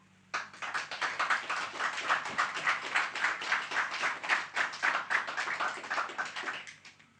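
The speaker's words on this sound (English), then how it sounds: "I want to applaud you and thank you." Audience applause at a summer school gathering at Derrynane House, County Kerry: a modest, fairly close group clapping in a rhythmic, pulsing pattern for about six seconds before fading out.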